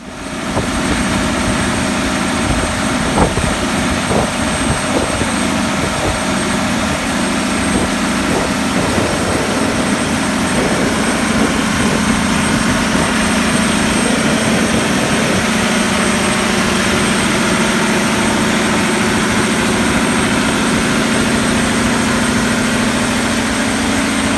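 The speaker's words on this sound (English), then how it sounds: "there's going to be some footage of the power unit, John Deere engine, Cornell pump" A John Deere engine power unit drives a Cornell pump at a lagoon while draglining, holding a loud, steady, low mechanical drone throughout.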